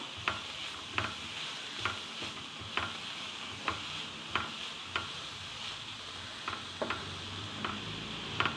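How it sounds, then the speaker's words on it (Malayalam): Fenugreek leaf stir-fry being stirred in a pan, a steady low sizzle with regular scraping strokes of the spoon roughly once a second, close and moderately quiet, no talking. "നമുക്ക് ഇതൊന്ന് ഇളക്കാം"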